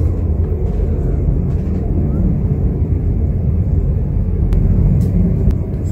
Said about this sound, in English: there's a loud airplane flying overhead